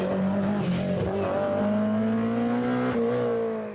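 A Vauxhall Chevette-era Forenza rally car on a historic rally stage: engine note climbing through revs with gear changes, loud and close as it passes, with a hint of tyre noise.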